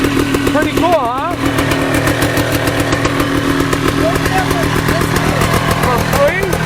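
A mini bike engine fitted with an FMF exhaust runs loud and steady up close, with a rough, throbbing idle. Brief voices and chirps sound over it.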